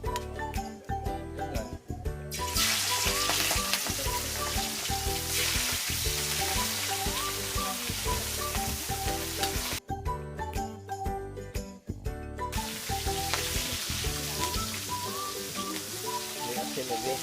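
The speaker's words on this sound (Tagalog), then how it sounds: "mag-prito tayo ng pasayan" Steady, loud sizzling of shrimp frying in a hot pan, continuous throughout with brief clinks and stirring.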